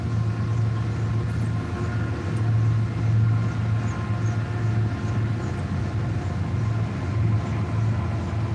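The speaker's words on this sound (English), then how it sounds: "Wait for the train to go by." A train rolls steadily past, a continuous loud low rumble with a sustained hum that holds evenly throughout, with no voices over it.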